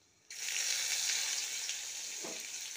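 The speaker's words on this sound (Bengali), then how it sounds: "রসুনটাও দিয়ে দিই একসাথে ভাজা হোক।" Garlic drops into hot oil with dry chili, bay leaf and five-spice, setting off a sudden loud sizzle that holds steady and close, with one brief low knock near the end and no talking.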